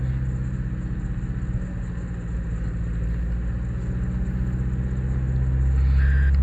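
A Mazda 2.2 Skyactiv diesel engine held steady at 2000 rpm, a constant close low rumble and drone that swells slightly louder near the end, with no talk.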